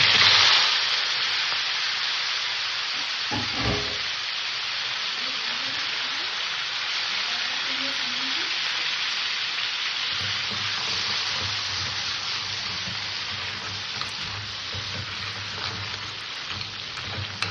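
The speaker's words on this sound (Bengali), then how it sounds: "মাছ কথাকে আমি সুন্দর করে ভেজে নেব" Fish pieces fry in hot oil in a wok, making a loud, constant, even hiss and crackle that holds for the whole stretch, broken only by a brief thump near the start.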